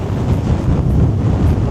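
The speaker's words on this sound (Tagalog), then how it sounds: "Medyo mahangin." Strong wind buffets the microphone at a waterside fishing spot by a dock at Port Belvoir, a loud continuous low rumble with possible surf beneath it.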